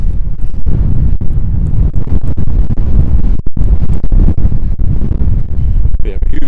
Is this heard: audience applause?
no